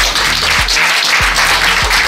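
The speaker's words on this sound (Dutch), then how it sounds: "als het applaus voor Lana een beetje is gaan liggen" Audience applause for pageant candidate Lana at a Mrs Universe Belgium press presentation, a steady, loud wash of many hands clapping that carries on without pause, with no voices over it.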